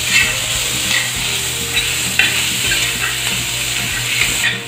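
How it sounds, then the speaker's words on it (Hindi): Chopped onion sizzles and fries on a hot tawa, a steady crackling hiss with occasional stirring scrapes, close and continuous with no talking. "अभी हम इसमें कटा हुआ प्याज डालेंगे"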